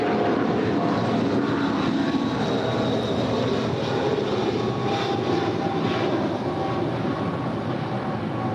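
Boeing 777-200 airliner at LAX in the early hours, a loud, steady broadband jet engine roar that holds throughout without pause, with no voices over it.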